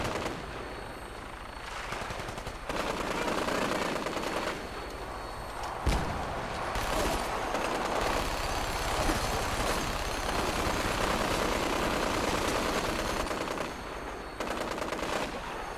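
Minigun fire in Fallout 4, with long sustained roaring bursts of rapid shots broken by brief pauses, loud and continuous across the whole stretch.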